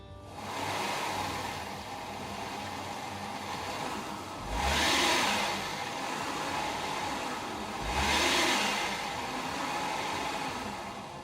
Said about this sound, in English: So a driver needs to accelerate persistently, and happily Mazda passes this challenge.